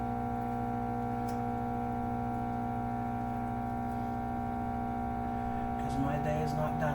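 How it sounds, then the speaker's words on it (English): A microwave oven runs nearby in a home kitchen, giving a steady, even electrical hum that holds unchanged throughout, with a few faint clicks and rustles near the end. "if you hear the microwave in the background, that's what that's for"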